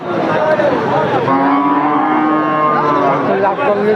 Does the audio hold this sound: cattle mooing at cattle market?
yes